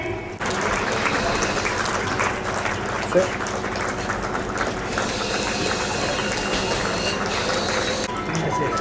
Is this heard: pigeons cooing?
no